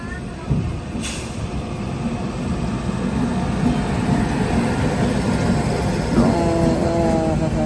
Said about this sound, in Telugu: కేరళ నుంచి న్యూఢిల్లీకి వెళ్ళే కేరళ ఎక్స్ప్రెస్ ఇది.